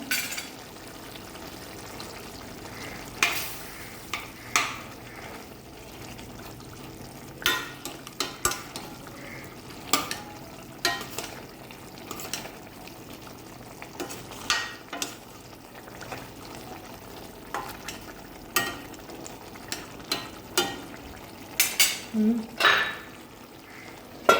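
Salted kingfish frying in a pan, a low continuous sizzle punctuated by frequent sharp crackles, spatters and occasional utensil knocks over a long stretch.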